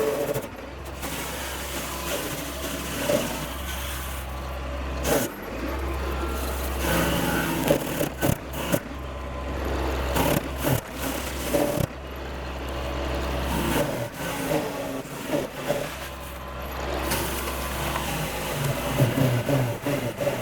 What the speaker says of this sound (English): you can't not mulch when you have the mulcher on the back of the tractor. So we're gonna mulch up this corner a little bit.